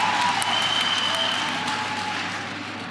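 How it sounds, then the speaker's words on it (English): Steady applause from a crowd at a political rally in KwaZulu-Natal, dense clapping that holds for a few seconds and then slowly fades. "Give yourselves a round of applause"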